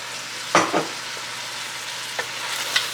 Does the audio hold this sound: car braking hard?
no